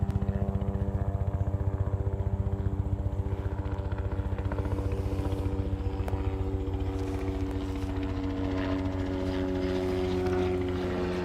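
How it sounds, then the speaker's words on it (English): Helicopter flying overhead during a night of live bass fishing, a loud, steady rotor chop with a pulsing beat that holds through the whole stretch and shifts slightly as it passes. "You guys hear the chopper noise?"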